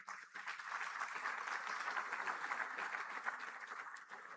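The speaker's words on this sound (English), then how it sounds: "A round of applause for him, please." Audience applause at a business summit session in Africa, steady dense clapping from a large crowd that holds evenly throughout without any speech over it.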